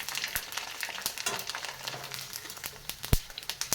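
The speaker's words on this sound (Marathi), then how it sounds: "मीडियम गॅसवर या पापड्या तळून घ्यायच्या आहेत" Sago and potato papad frying in hot oil over a medium flame, a steady crackling sizzle with scattered sharp pops and a louder crack near the end, with no talking.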